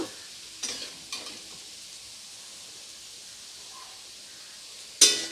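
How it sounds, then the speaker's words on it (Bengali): Onions fry in oil for egg biryani, a soft steady sizzle with a few scraping stirs early on and a sharper spatula scrape near the end, fairly quiet overall. "পেঁয়াজটা কিন্তু এরকম ঠিক লাল লাল করে ভেজে নিতে হবে"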